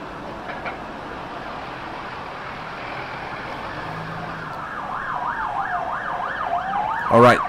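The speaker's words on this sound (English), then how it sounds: "But I think it's a little bit loud with the sirens." Police and emergency vehicle sirens sound on a Hong Kong street during protests, a wailing siren rising out of the traffic hum and growing louder, ending in a sharp close yelp.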